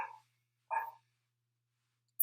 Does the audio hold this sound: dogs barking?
yes